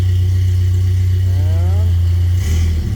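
A vehicle engine with its racing throttle hooked up runs loud and close, a steady low drone from start to finish, with a brief rising rev near the middle and a slight shift at the end.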